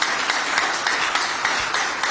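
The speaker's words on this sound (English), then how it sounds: "please let the applause be louder" A large crowd at a political campaign launch applauds in a dense, continuous wash of clapping that holds steady from start to finish.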